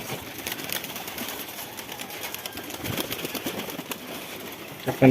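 Native pigeons on a home rooftop loft make a brief, busy patch of rustling and wing movement with faint cooing, ending in a sharp knock.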